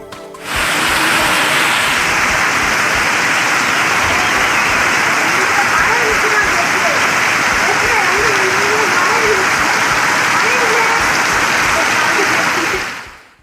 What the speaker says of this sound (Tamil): நெல்லை மாவட்டத்தில் மலை கிராமமான மாஞ்சோலையில் பரவலாக மழை பெய்தது.